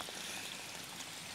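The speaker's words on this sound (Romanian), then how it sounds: "Avem apă curentă aici, de la Mama Natură. Un izvor destul de puternic." Strong spring water running in a forest, a steady broadband rushing and trickling wash with no breaks, faint and continuous.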